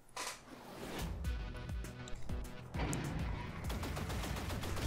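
Gunfire in the twin-stick shooter game Assault Android Cactus, with rapid bursts of shots and blasts running almost continuously, loud and dense throughout.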